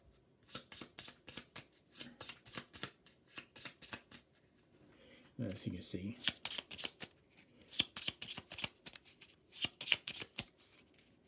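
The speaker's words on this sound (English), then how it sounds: "Shuffle these up." Cards are shuffled in quick riffling bursts, over and over, with a person speaking briefly in between.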